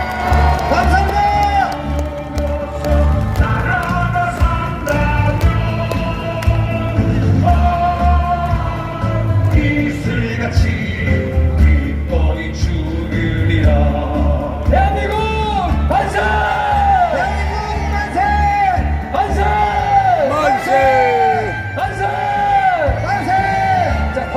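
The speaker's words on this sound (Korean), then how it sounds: "우리 여기 많이 나와 있는 젊은 청년들을 위해서 박수 한번 주세요." A large crowd at a rally near Seoul Station applauds and cheers loudly and continuously, with whoops and yells rising over the clapping.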